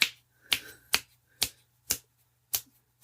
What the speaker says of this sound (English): apparently I can't snap my fingers quick enough